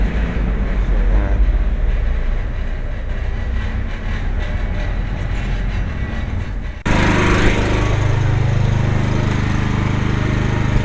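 A 20 kVA generator engine runs steadily during a final test after repair. It drones loud and close, then jumps abruptly into a harsher, louder running tone partway through, as if a load were applied.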